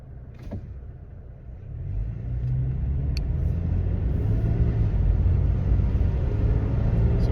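A Toyota Tacoma on its factory rear bump stops, driving at around 20 miles an hour, gives a steady, heavy road rumble that swells as it gathers speed, with a couple of brief knocks from the body.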